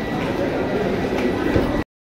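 The Jaisalmer Express, train 15014, gives off a steady, loud rumble with faint clatter at platform 1 of Rudrapur station. The sound holds evenly, then cuts off abruptly.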